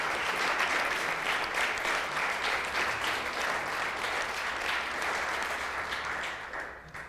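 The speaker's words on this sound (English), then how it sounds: "Let's give them a round of applause." A village council meeting audience applauds, a full steady round of clapping lasting several seconds before tapering off at the end.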